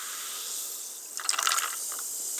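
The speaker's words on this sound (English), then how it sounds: "you open up this pineapple sparkling water and you pour it into" Pineapple sparkling water poured from a freshly opened can into a mug of ice cubes, a short fizzing splash and crackle lasting about a second over a quiet hiss, with no talking.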